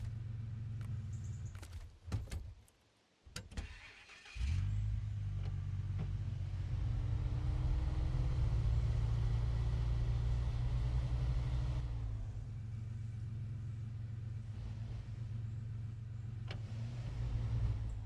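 In the SnowRunner video game, a Chevy truck's engine gives a low, steady rumbling drone that runs on after a few clunks and thumps, then shifts pitch briefly before settling back to an idle.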